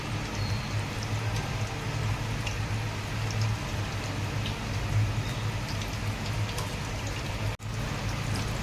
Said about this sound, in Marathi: आता आपण तिला फ्राय करू मीडियम गॅसवरच तळायची ही भजी